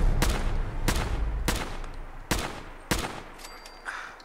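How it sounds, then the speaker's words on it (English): Assault rifle fire in Fallout 4, five separate sharp, loud shots spaced about half a second apart, each with a short ringing tail, followed by fainter game sounds. "Take my assault rifle and..."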